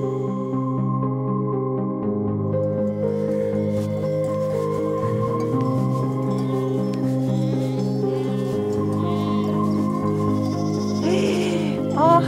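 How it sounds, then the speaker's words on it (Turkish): A young lamb bleats outdoors in the hill pastures of Ordu, Turkey, among a grazing flock; repeated calls rise over a steady, sustained tonal background. "Çok tatlı küçük kuzu."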